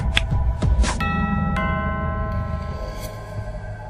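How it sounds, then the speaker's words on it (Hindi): A two-tone doorbell chime rings out clearly, its notes lingering and ringing over a low background hum, with a second softer chime following. "घर की डोरबेल बजी"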